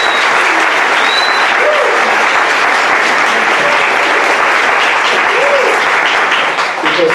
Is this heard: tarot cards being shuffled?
no